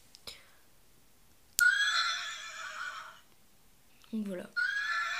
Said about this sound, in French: Un bruit de cheval quoi. Dès qu'on le pose par terre.